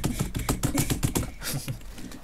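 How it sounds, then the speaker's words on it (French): Rapid, heavy keystrokes clatter on a computer keyboard, a dense close burst of hard taps that slows slightly toward the end. "Il va péter son clavier."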